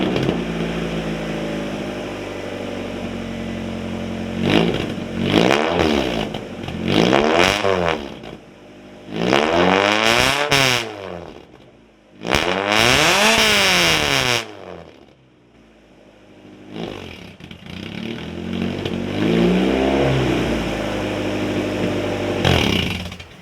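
A car engine revs hard through a homemade straight pipe exhaust, several loud rising and falling bursts separated by rough idling, close and alone with no talk.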